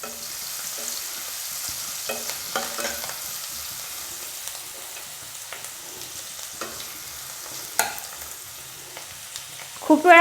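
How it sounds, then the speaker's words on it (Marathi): Ridge gourd chutney ingredients sauté in a pan until reddish brown, a soft continuous sizzle broken by scraping stirs and clinks, with a sharper knock near the end. "लालसर होईपर्यंत परतून घ्यायचं आहे"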